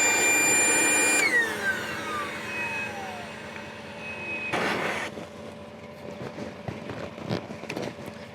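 An AstroAI portable tire inflator air compressor runs with a loud, steady motor whine, then cuts off and winds down with a falling tone. Afterward a low hum and some close handling clatter remain.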